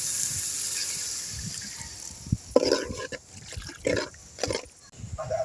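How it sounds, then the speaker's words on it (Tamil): Water is poured into a cooking pan of sautéed ginger-garlic paste while making a potato and egg thokku, giving a few short splashing, sizzling bursts over a steady background hiss. "தண்ணி ஊற்றிக்கலாம்"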